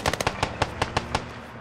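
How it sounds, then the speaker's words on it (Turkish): Hand grenade explosions in the video game Squad, a rapid burst of sharp, loud blasts, about ten in under two seconds, crackling close by with no talk. "Burada el bomba efektleri falan çok güzel."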